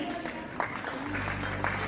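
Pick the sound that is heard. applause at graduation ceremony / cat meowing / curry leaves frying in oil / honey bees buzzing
applause at graduation ceremony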